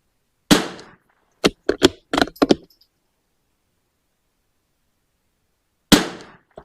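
Springfield 2020 .22LR rimfire rifle fired during an outdoor shooting match: about eight sharp, loud cracks, several in quick irregular succession, then a lone final shot after a pause of a few seconds.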